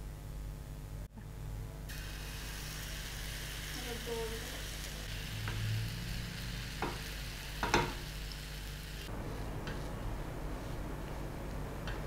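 Corn chila, a thick batter pancake for tawa pizza, frying on a hot tawa gives a low, steady sizzle throughout, with a few faint scrapes and taps partway through.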